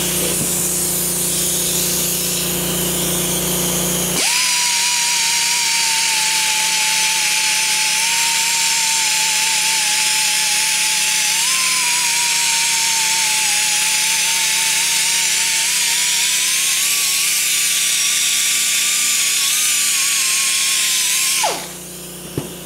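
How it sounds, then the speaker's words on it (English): A die grinder fitted with a wire wheel runs steadily for about seventeen seconds, whining loudly and harshly against a metal pipe, then winds down abruptly. "you have to use a wire wheel on your die grinder"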